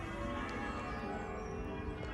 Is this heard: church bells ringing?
yes